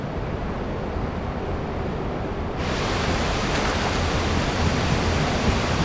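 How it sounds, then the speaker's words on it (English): A waterfall in the video game Abiotic Factor, a steady broadband rushing roar of falling water that swells noticeably brighter and fuller partway through, with no speech. "You can't give us a waterfall and put nothing behind it, come on."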